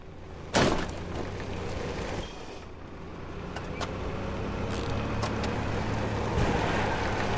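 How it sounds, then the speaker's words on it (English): Golf cart being driven in the video game Fortnite, a steady vehicle engine drone and road rumble with occasional sharp knocks and clicks, heard through game audio at a moderate, even level. "I'm driving a golf cart"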